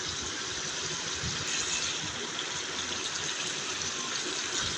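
Water pours steadily into whole spices frying in a pot, black and green cardamom, cinnamon and bay leaf, for shahi chicken pulao, a constant rushing gush with no speech.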